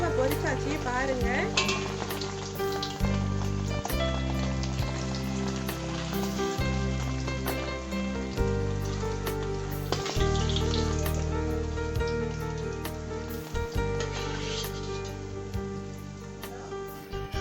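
Tofu sizzles and crackles steadily in hot oil in a pan as it fries until golden, a continuous loud spattering with occasional stirring clinks throughout.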